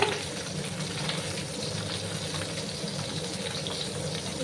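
Pabda fish sizzles in hot oil in a pan, a steady, soft crackling hiss that runs evenly throughout with no voices.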